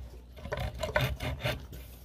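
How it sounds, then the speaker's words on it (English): A small miniature hacksaw rasps along the body lines of an Ibanez Gio Goldtop guitar, giving several short, close scraping strokes in an uneven rhythm at a quiet level. "I've got this little miniature hacksaw."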